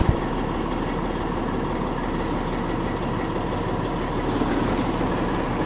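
A truck revving as its tires spin out on the gravel floor of a farm building while hauling corn, a steady heavy low engine drone close by that swells slightly near the end, with no voices.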